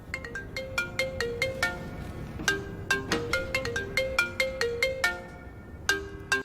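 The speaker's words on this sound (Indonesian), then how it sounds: "Benar ini dari telepon dapat dari Keanu Reeves" A telephone ringtone for an incoming call plays a bright, repeating melody of plucked electronic notes in a quick, steady rhythm. It is clear and close, with no voices over it.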